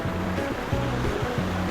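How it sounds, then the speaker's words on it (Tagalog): Ocean waves wash and lap continuously on the shore at a resort on Sabtang Island in Batanes, a steady broad surf noise with gentle rhythmic swells and no voices. "Siyempre, sabay na rin yung ingay ng pagaspas ng alon."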